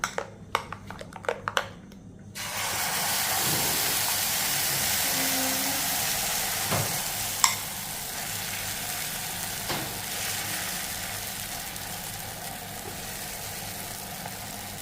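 Oats omelette batter sizzles steadily on an oiled dosa tawa, a constant frying hiss starting after a few seconds of quieter clatter and continuing evenly with occasional small pops and utensil taps.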